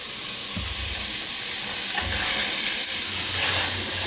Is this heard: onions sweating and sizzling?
yes